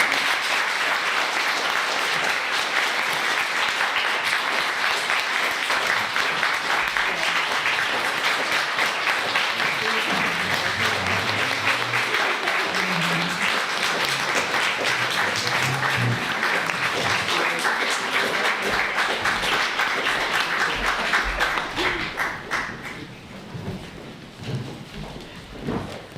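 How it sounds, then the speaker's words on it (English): Sustained applause from a conference audience, a dense loud wash of many hands clapping that continues steadily for over twenty seconds, then thins and tapers off near the end. "I think you deserve a massive round of applause."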